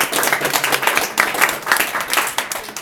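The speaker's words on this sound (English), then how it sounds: "You don't have to applaud." An audience breaks into steady, loud applause, a dense patter of many hands clapping without a break for a few seconds.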